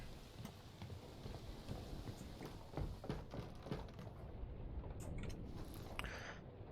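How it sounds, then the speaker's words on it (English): Steady rain in the video game Return of the Obra Dinn, falling around a ship: a continuous patter with scattered sharper drops and knocks, at a moderate level, with no voices. "Now it's raining."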